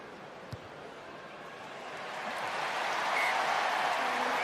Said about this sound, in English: Applause beginning before it sailed through